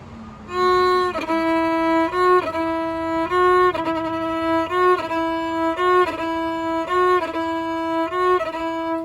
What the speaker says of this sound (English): here's what a burl sounds like, starting with up bow